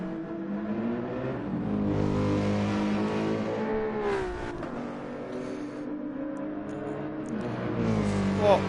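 Porsche and Mercedes race cars battling for position in a sim racing game at Abu Dhabi, engines droning and rising in pitch through gear changes, a smooth continuous whine with a brief dip midway.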